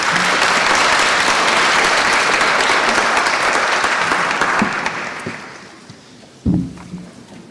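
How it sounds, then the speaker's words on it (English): An audience at the opening ceremony of an environmental emergencies forum breaks into loud, dense applause that holds steady, then thins and fades away, with a few scattered thumps and noises as it dies out. "A round of applause for him."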